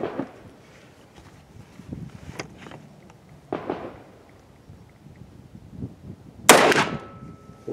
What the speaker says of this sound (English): now we're going to be shooting the 300 grain 44 Magnum, starting with the 6-inch barrel out of the Smith & Wesson